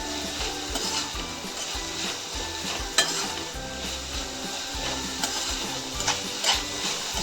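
A Chinese-style vegetable filling with soy sauce sizzles loudly in a pan over a high flame while a spoon stirs and scrapes steadily, with a few sharp clinks against the metal.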